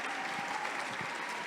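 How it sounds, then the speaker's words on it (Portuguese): Audience applause for poets at a book fair, a steady, dense wash of clapping that runs unbroken through the moment with no voices over it. "Maravilhosa, aplaudam, aplaudam"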